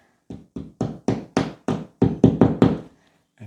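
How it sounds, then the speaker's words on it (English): A series of about ten sharp knocks, close and fairly even, tapping wall anchors flush into a wall, followed by one more after a pause. "Pop those anchors in"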